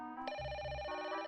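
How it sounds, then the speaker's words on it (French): A telephone bell rings once in a short, bright burst with a clear electronic tone, heard alone and fairly quietly. "Ah mais bon sang Jerry, je t'ai déjà dit de pas m'appeler pendant que je travaille."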